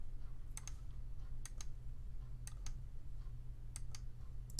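Computer mouse clicked in quick pairs, several double clicks in a regular rhythm, crisp and close over a steady low hum while digitizing embroidery on a PC.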